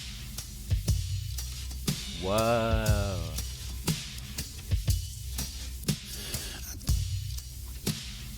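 Music squashed by the OTT multiband compressor in Ableton, loud and dense with hissy highs and pumping transients, a wobbling sweep in the middle, and a brief voice exclaiming over it.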